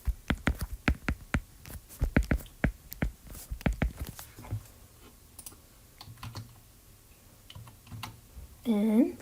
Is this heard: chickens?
no